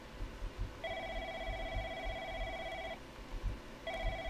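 In the horror game The Lancaster Leak, set in a call center, an electronic telephone rings in a long tonal burst. A short pause follows, then the ring starts again, heard at moderate distance over a low background rumble.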